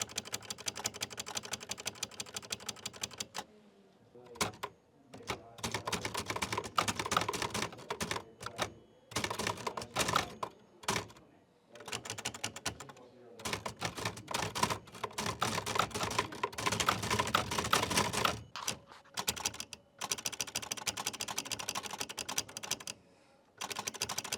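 An old typewriter is typed on in a library, with bursts of rapid, fairly close mechanical key strikes broken by short pauses over about twenty seconds.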